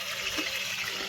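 Water pours steadily into a cooking pot for a biryani, a brief continuous splashing rush close by.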